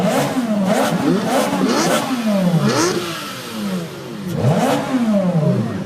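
Car engines rev hard at a Cannonball Run road-rally event, with repeated loud rising and falling roars and passes at close range. The revs rise and fall several times over a continuous background rumble.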